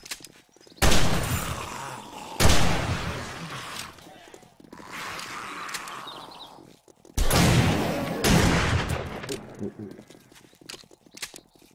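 Shotgun blasts at zombies in the 7 Days to Die video game (Alpha 18): a few loud, sharp booming shots with decaying tails, spaced several seconds apart, with someone talking over the gunfire.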